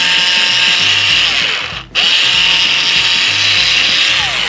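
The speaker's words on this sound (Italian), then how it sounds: "Comunque il taglio col fommi è abbastanza agevole." A Bosch electric cutter slicing craft foam gives a loud, close, steady motorised whine with a rhythmic mechanical chatter, briefly dropping out for a moment near the middle before resuming.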